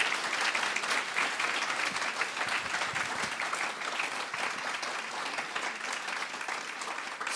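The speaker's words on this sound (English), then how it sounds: "Look, can we all give Jess another round of applause?" A sustained round of applause from the audience at a youth awards ceremony, dense continuous clapping that holds steady throughout with no talking.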